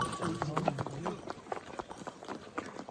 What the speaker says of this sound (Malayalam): വേറെ 2-3 കുതിര വരുന്നുണ്ട്.